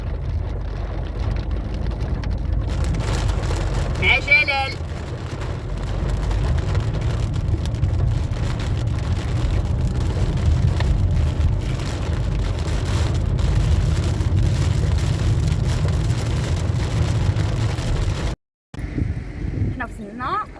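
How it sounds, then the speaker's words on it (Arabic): Rain pours steadily outdoors on an Arabic-speaking hiker heading toward the mountains, a dense broadband wash with low rumble throughout, under almost continuous talk and a brief dropout near the end. "شوفوا الشتا عباد الله، الشتا زوينه الله"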